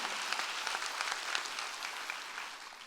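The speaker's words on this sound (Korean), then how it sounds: "박수로 하나님께 합니다." A church congregation at a Sunday worship service claps steadily and densely for about three seconds. The applause is a sustained, even wash of many hands with no voices over it.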